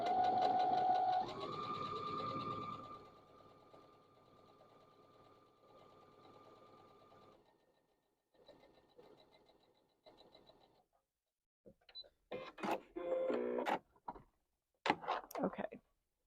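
A sewing machine chain-pieces quilt blocks two at a time, starting with a run of stitching and then slowing to quieter intermittent bursts, followed by scattered clicks and handling noises near the end.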